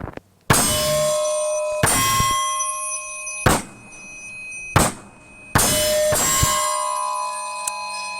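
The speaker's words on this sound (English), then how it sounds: "Now I'm gonna double tap the steel, 1 round in each painted dot" Pistol rounds ring off a steel target at a range, each shot a sharp crack followed by a long metallic ring; five separate hits arrive at uneven intervals, loud and close.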